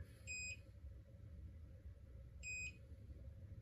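Two short, clear electronic beeps, a couple of seconds apart, from a hair styling device timer, heard over a low, steady rumble of room noise.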